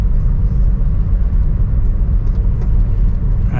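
A car engine hums steadily from inside while the vehicle is driven around in circles, a constant low rumble and whir with no talk over it.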